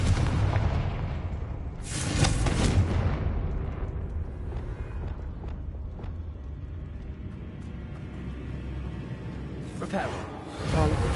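Confringo blasting spell explosions in Hogwarts Legacy: a loud booming blast with a rumbling tail, another burst shortly after, and a third near the end over steady game ambience.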